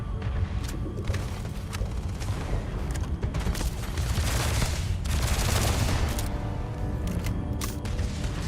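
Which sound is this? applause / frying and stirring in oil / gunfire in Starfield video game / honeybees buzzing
gunfire in Starfield video game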